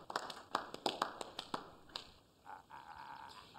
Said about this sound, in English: So I thought we could begin with a round of applause befitting such a great man.